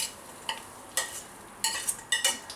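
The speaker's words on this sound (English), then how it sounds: "And also put in the contents of the pan. That's the onions, garlic and the pancetta." Fried onions, garlic and pancetta are scraped from a pan into a pot of spicy slow-cooked baked beans, making several short scraping and sizzling bursts at an irregular pace against a quiet background.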